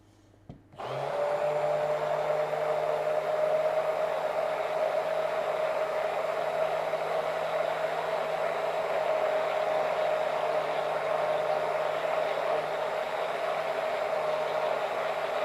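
An electric mixer starts abruptly and then runs at a steady high whine, loud and close, holding an even pitch with no talking.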